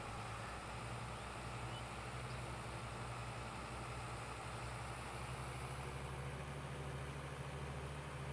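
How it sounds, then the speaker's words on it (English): A tractor engine strains under the load of a full manure spreader in Farming Simulator 22, giving a steady, low droning hum that holds constant throughout with no breaks. "This manure spreader, especially when it's full, it's about all this tractor wants to do."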